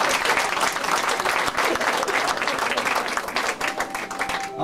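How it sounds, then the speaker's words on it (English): A studio audience at an old radio program bursts into dense, sustained applause that carries on for several seconds at close, steady loudness. "Let's hear it for Jeannie."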